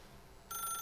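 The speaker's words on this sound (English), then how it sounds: "To just let the phone ring?" A telephone starts ringing in the video game The Stanley Parable, a steady electronic trill that cuts in halfway through over a faint low room hum, moderately loud and alone.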